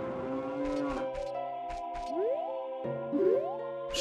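A cow moos in a Legend of Zelda video game, with several drawn-out, rising lowing calls broken by short gaps and soft game sounds.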